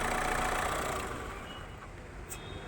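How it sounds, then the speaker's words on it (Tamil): A Ford EcoSport's engine starts and settles into a steady idle: a loud initial burst that eases into a smooth, even hum with no apparent strain. "என்ஜின் ரொம்ப ஸ்ட்ரெயின் ஆகாமல் ஸ்மார்ட்டாக ஸ்டார்ட் ஆகுது"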